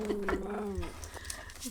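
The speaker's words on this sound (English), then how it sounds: "so then she barks at the dog" A small Chihuahua barks and whimpers at another dog in short yelping bursts, close to the listener and mixed with a person talking.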